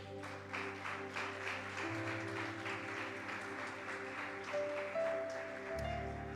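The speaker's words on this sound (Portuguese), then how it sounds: "Você pode aplaudir o Senhor Jesus?" A church congregation claps in praise during a Portuguese-language service, a moderate, fairly steady applause over sustained organ or keyboard chords.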